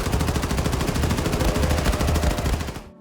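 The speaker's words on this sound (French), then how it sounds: "En passant par le classique pistolet mitrailleur" A submachine gun in the shooter game Wolfenstein 2 fires a loud, continuous rapid burst of shots for about three seconds, then cuts off abruptly into silence.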